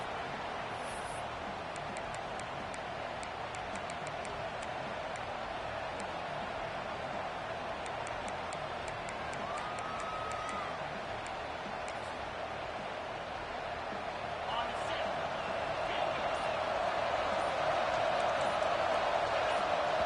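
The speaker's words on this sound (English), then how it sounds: "And with this place rocking, the crowd forces a false start." A dense, steady roar from a college football stadium crowd at an Aggies versus Ole Miss game, surging louder near the end as the home fans drive the visitors into a false start.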